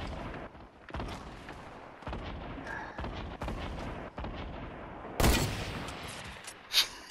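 Grenade explosions and gunfire in a shooter video game, a series of sharp booming blasts in quick succession with one loud hit near the end, no talking.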